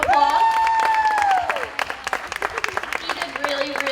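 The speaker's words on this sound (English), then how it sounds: "so if we can give him a round of applause." Light crowd applause at a county 4-H and FFA fair alpaca show, scattered claps under a loud sustained tone and nearby voices, continuing steadily for several seconds.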